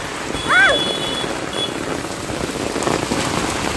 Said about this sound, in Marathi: पाऊस काय होतो बघा